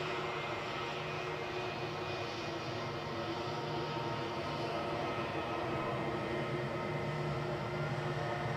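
An aircraft at Edinburgh airport gives a steady, broad engine roar that holds at an even level throughout, with no voices.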